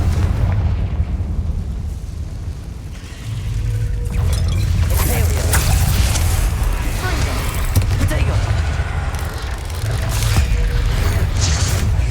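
A Confringo spell explosion in the game Hogwarts Legacy sounds as loud, booming blasts with rumbling bursts and crackling debris over a dense game soundscape, briefly dipping before swelling again.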